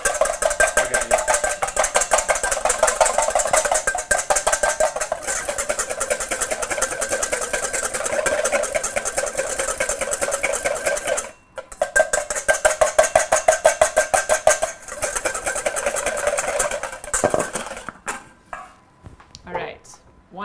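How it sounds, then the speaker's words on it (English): A blender grinds almonds and hazelnuts for a cheesecake crust in loud, rough bursts, the motor pulsing and rattling as the nuts break down, with a brief pause midway before it winds down. "Blitzing some almonds and hazelnuts for the crust."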